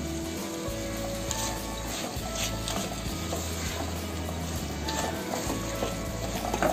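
Steady, close sizzling of vegetable pulao with biryani masala sautéing in a pan over high flame, with the scrape and rustle of stirring running through it continuously.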